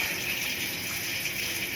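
Hot water runs steadily from a tap during a mock decontamination, a continuous rushing gush that stays at an even level for the whole stretch, with no talk over it.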